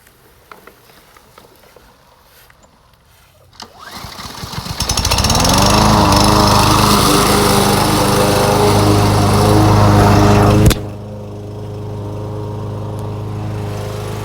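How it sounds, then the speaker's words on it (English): A lawn mower engine sputters, catches, and roars into a loud, steady drone, its pitch shifting slightly before settling into a lower continuous hum. "the lawnmower is already loud"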